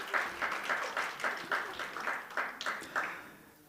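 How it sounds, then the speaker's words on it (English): A conference audience applauds, a steady run of evenly paced claps at a moderate distance, fairly soft and fading slightly at the end, with no talk. "Please give him a warm round of applause here."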